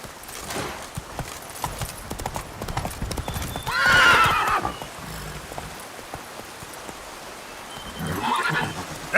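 Roach, a horse in The Witcher 3, gallops with rapid clip-clop hooves under falling rain, and two loud neighs and whinnies break through the steady drumming.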